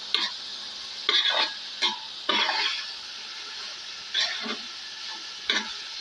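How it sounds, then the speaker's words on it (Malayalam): A small spoon stirs anchovy peera (kozhuva peera) cooking down in a pan, giving soft scraping strokes in irregular bursts over a faint steady sizzle, close and alone. "ചെറിയ സ്പൂണ് മാത്രമേ ഇതിട്ട് ഇളക്കാവുള്ളൂ"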